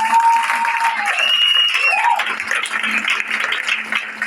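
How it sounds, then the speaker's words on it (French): A church congregation applauding loudly for the Lord, a dense sustained wash of clapping mixed with whistles and shouts throughout. "Acclame très fort pour le Seigneur."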